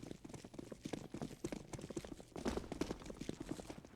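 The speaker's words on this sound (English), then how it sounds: "All footsteps made, heard by Fiku." Rapid, regular footsteps of players rushing down a ramp on the Mirage map in a Counter-Strike match, a busy patter of steps with the game's ambient din behind them.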